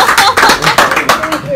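An audience claps in quick, rhythmic bursts at the Too Many Games 2019 gaming convention, sharp and close, with voices mixed in.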